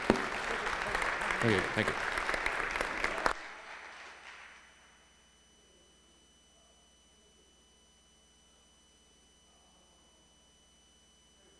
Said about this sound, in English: If you'd welcome with an applause, the hardest working man in Santan Valley